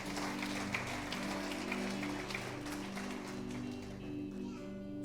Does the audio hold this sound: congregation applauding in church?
yes